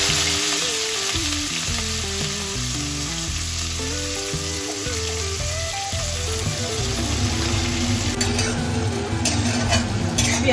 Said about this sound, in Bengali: পেঁয়াজটাকে হালকা বাদামি করে ভেজে নিই।